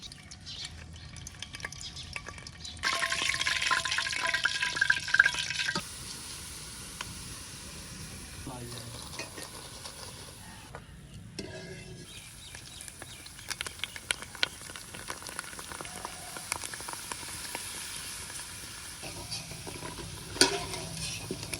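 Food frying in mustard oil in a village kitchen, with a loud burst of sizzling for a few seconds, then a steady lower hiss and crackle with occasional stirring clatter and drips.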